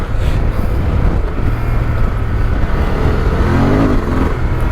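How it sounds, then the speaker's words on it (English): A Honda Transalp XL750 motorcycle engine running loud and close as its traction control kicks in, a rough steady drone with uneven throbbing pulses and wind rush. "Oh, listen to that traction control kicking in."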